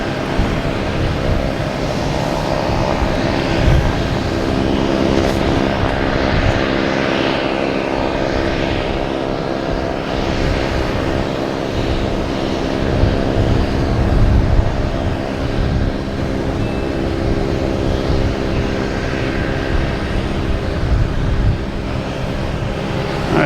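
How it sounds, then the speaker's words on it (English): A JetBlue Airbus A321 arriving at Boston Logan Airport gives a loud, continuous jet engine roar that swells and holds steadily, heard alone without talk. "Next to arrive, we have a JetBlue coming from Cancun,"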